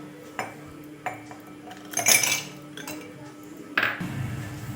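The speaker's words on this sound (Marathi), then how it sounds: "आता आपण टाकूया मोठ्या कपमध्ये आईस क्यूब" Ice cubes dropped into a large cup while making cold coffee, a few sharp separate clinks and clatters spaced out over a quiet background, with no talking.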